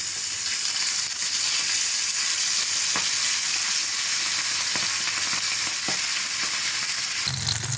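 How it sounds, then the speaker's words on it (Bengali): Turmeric-coated pomfret fish frying in hot oil in a wok, producing a loud, steady, close sizzle and crackle that runs unbroken throughout, with a few faint clicks and no talking. "তেলটা গরম হয়ে গেছে। এখন আমি ভেজে নেব ভালো করে।"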